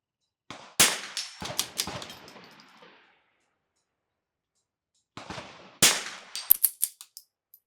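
.22 rifle shots ring out at an NRL22 range match, coming in two clusters of sharp cracks, some followed by faint metallic pings, loud and close with silence between the groups.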